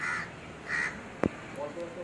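Crows caw twice outdoors, harsh calls close by, with a sharp short sound between them and a voice speaking faintly at the end.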